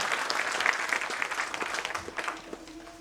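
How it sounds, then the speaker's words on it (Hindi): An audience bursts into loud, sustained applause after a song at a Prabodhan 2013 stage program, dense hand-clapping from a large crowd filling the whole stretch with no talking over it. "जोरदार तालियां फिर एक बार इस आनंद के लिए"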